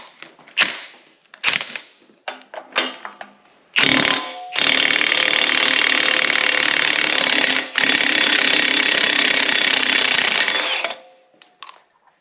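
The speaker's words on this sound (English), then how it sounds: "I always use my rattle gun for this. You're going to need a 3/4 drive one." A 3/4-inch drive rattle gun (impact wrench) works a nut off during a Mazda 13B rotary engine teardown: a few short, loud bursts, then one long sustained hammering run with a brief dip, ending in a couple of quick taps.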